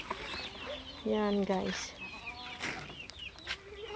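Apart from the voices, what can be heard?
chickens clucking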